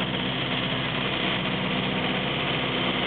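Engine of a 1934 Morris 10 convertible pulling away, heading out on the road to Aberdeen, a steady, loud, close engine drone with constant rumble throughout and no talk.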